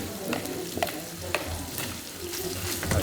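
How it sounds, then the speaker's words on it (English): Pork and eggplant sizzle in a hot pan, with a spatula scraping and stirring every so often over a steady, fairly quiet frying hiss. "I stir fried it until the pork will cook and a little crispy on the outside"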